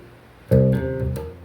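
A short funk bass guitar phrase, a plucked low note followed by a hammered-on note ringing out, clear and close with no talking.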